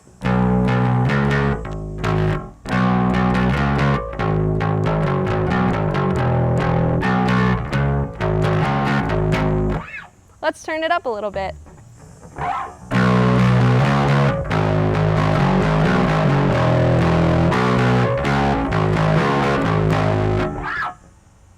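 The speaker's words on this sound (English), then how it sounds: "So that's what a distortion pedal does. It gives it that crunch." An electric guitar played through a distortion pedal gives loud, crunchy, sustained chords and riffs, with a short break of thinner, wavering notes in the middle before the full distorted playing returns. A voice speaks briefly.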